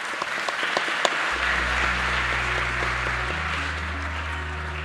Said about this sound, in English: Big round of applause, gentlemen.